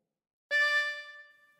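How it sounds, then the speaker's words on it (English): A lone harmonica draw note on hole 4 sounds close and clear, holding for a moment before gradually fading, quieter than the surrounding notes. "Breathe in through 4."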